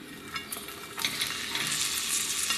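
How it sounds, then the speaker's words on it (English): Ingredients sautéing in olive oil and butter for calamari with mushrooms and bean sprouts, a steady close hiss of frying with light stirring scrapes, no voices. "olive oil and butter's in there, is to saute everything"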